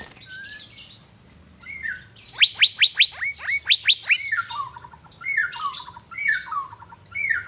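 A caged Asian fairy-bluebird (cucak biru) in Banjarmasin, set out to sunbathe, sings loudly and close: a quick burst of piercing repeated whistles, then looping falling liquid phrases repeated several times.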